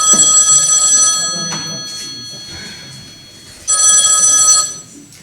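A telephone rings in two loud, bright bursts separated by a quieter gap, with faint room sounds between the rings.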